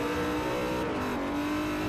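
A BMW M3 GT2 race car revs hard in Forza 4 at the Motegi circuit, its loud engine note holding steady and then sliding into a new pitch as it climbs through a gear.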